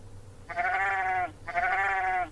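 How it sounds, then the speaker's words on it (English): Sheep being fed bleat twice, each call long and wavering, close and clear, with a short pause between them. "watch a clip of feeding the sheep."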